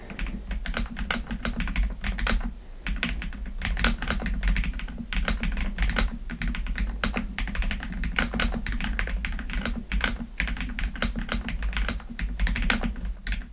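Light typing on a Redragon K745 Pro mechanical keyboard, a steady close-up run of quick, soft key clicks and clacks continuing throughout with no talking.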